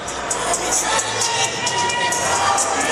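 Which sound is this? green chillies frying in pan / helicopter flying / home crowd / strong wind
home crowd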